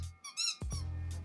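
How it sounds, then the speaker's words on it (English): Squeaky toy squeezed several times in quick succession, producing sharp, bright, close squeaks with short gaps, followed by a lower humming tone. "Eve, we have a lot of these squeaky toys in the truck."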